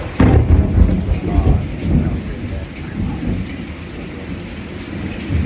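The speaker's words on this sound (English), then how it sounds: "By the way, it's raining out here." Heavy rain falling outdoors in a thunderstorm, with rolling thunder rumbling low and loud early on, then a steady, fairly close downpour hiss continuing throughout with no one speaking.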